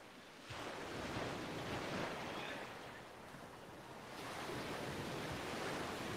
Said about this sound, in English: That way you guys can hear the ocean too.